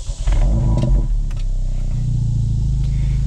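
A 2024 Acura Integra Type S engine cranks briefly and catches, rising into a loud, close idle that settles into a steady low hum and holds alone to the end.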